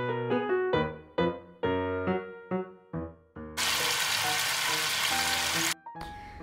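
Loud sizzling bursts from sapo tahu (tofu and vegetables) frying in a pan, several short hits followed by a long steady sizzle, with clattering utensils.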